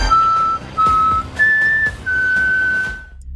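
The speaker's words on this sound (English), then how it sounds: "a person, not realizing the danger, whistled to get the creature's attention." A person whistles four sustained notes, the third pitched higher than the rest. The notes are loud and clear, separated by short gaps, and each is accompanied by faint crackling background noise.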